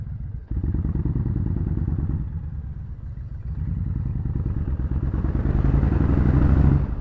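A big Honda Fury 1300cc cruiser motorcycle engine rumbles loudly at close range, its deep throbbing exhaust swelling as it revs up near the end.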